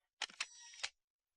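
A single-lens reflex camera fires during a couple's photo shoot, giving a couple of crisp shutter clicks joined by a brief mechanical whir and a final click, close and clear with no talking.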